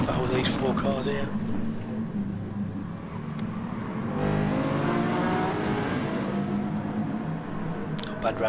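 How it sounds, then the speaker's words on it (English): Four race cars battle on track at Spa-Francorchamps, their engines droning and revving loudly in a continuous blend as they run close together, heard under steady race commentary. "Nice battle with these four cars here."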